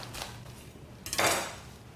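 A knife slices a head of cabbage in half on a cutting board while outer leaves are removed, a single crisp crunching cut near the middle, close and fairly loud over light kitchen clatter.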